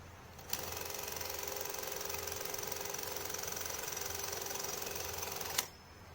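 Steady, loud knocking clatter of a Bolex H16 Reflex camera running with its pressure plate seated improperly, starting suddenly and stopping sharply after about five seconds, with no voices.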